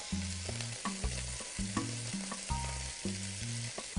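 Food sizzles and crackles in olive oil in a pan, a steady frying hiss under a rhythmic pattern of low repeating music notes, with no speech.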